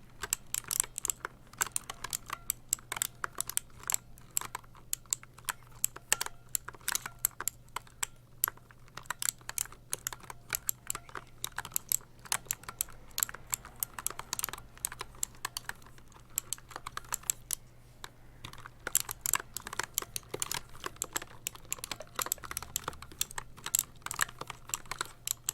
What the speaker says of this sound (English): Okay, you can start typing on the keyboard now.